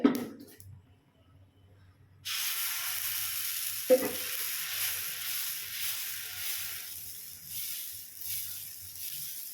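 Oil hits a hot pan for dosa batter made from moong dal, chana dal, rice and urad, giving a sudden steady broadband sizzle that starts after a quiet stretch and carries on with small bumps and a brief clack.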